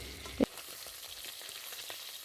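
Pabda fish frying in a small amount of oil in a pan, a steady close sizzle and crackle with one brief louder pop near the start, no voices.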